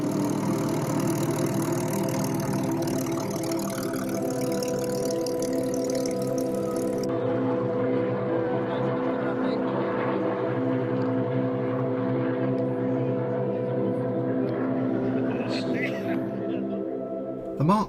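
A Mark V Supermarine Spitfire, airframe AR-213, runs its engine in a loud, steady, throaty drone that holds unbroken for the whole stretch with only slight shifts in tone.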